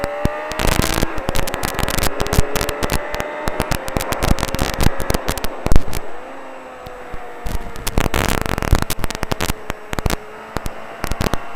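A KTM Duke motorcycle engine rises in pitch as it accelerates, loud and close, with rapid pulses and heavy wind buffeting and crackling bursts, briefly easing off midway before it pulls hard again.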